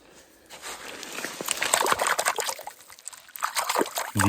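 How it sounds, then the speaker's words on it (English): Water poured and splashed over an agate rock to rinse it outdoors in California, a close trickling and spattering that builds after a quiet start and runs on unevenly. "Let's go ahead and rinse that off."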